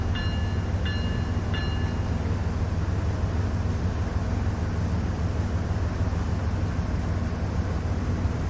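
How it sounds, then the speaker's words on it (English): BNSF diesel locomotives sit idling in a Train Sim World 3 session at Cajon Pass, a steady low rumbling drone with a faint high tone and a few brief beeps near the start. "Look at all these engines, man. Just idling."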